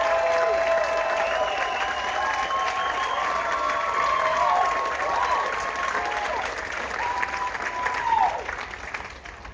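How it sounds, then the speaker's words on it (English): An audience aboard the Royal Caribbean cruise ship Grandeur of the Seas applauds the ship's orchestra after a Four Seasons tribute show, with a dense, sustained clapping that gradually fades while a voice talks over it. "a humongous round of applause for an orchestra that learned this show this afternoon in 1 hour"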